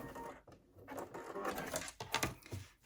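A sewing machine runs over the seam of a fabric beauty bag exterior, a close, steady mechanical whirr with a few brief pauses and surges as the stitching continues.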